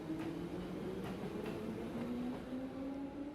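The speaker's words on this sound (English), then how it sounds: "On the train to Heimdall." A train ride in the video game Trails of Cold Steel, heading to Heimdall, comes through as a low, continuous rumble with faint rhythmic clicks and a sustained hum, steady and unaccompanied by speech.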